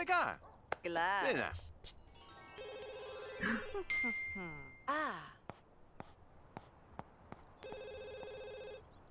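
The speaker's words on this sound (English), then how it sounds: "Just ignore the phone ringing." A phone rings in short electronic bursts, moderately loud and repeating, with a person talking and sighing around the rings.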